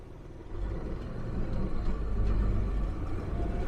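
A 1966 Chevrolet C10 pickup with a three-speed column shift pulls away in first gear, a low engine rumble swelling in loudness from close inside the cab, no speech.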